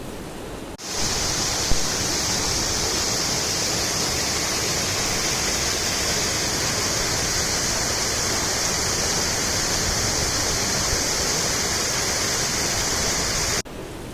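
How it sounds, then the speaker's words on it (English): A Highland burn runs hard after rain in a glen, a loud, continuous rushing of water that fills the whole clip, steady and close. "the burn's flowing quite hard, so hopefully it's not causing too much of a distraction"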